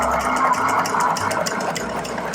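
A sewing machine stitches slowly through four layers of Dacron sail cloth, a steady motor hum with a fast, even needle rhythm running continuously throughout.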